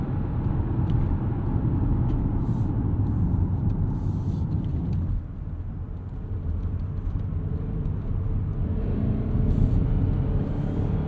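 A 2025 Mazda CX-50 Hybrid, Toyota-powered, takes a corner on a cold day on Goodyear all-season tires, giving a steady broadband road and engine rumble heard from inside the cabin with a brief dip midway.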